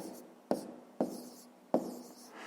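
A pen writes an answer on paper during a fifth-grade maths exercise: three sharp taps, each trailing off into a soft scratch, fairly quiet and close.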